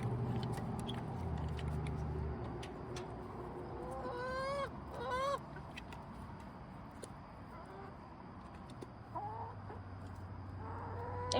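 Chickens cluck and call inside a coop, several short calls rising clearly over a steady low background hum, with brief quiet gaps between bursts.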